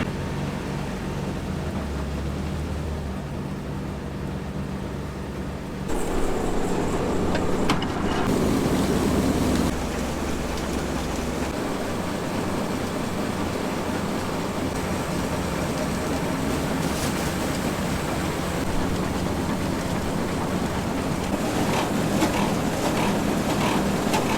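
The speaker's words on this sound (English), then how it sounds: "now we're just gonna let the machine mix everything for a few minutes" Farm machine mixing a load during a potato harvest, a continuous dense mechanical rumble and churning drone that shifts in texture partway through, steady and close with no talk.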